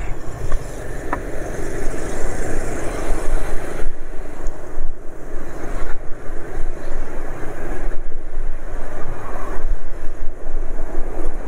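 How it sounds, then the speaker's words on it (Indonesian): Loud, steady rumbling road noise from the tyres of an Ignis car rolling on pavement, heard from inside the moving car, with gusty fluctuations throughout. "suara ban Ignisnya lebih kencang daripada suara mesin motor penulis"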